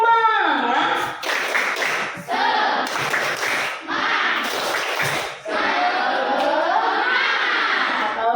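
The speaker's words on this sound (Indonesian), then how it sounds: "Tepuk semangat dulu deh, biar lebih semangat." Schoolchildren in a classroom clap together in sharp patterned bursts of a spirit clap, mixed with loud chanting voices between the rounds of claps.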